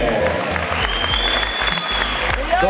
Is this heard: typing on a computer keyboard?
no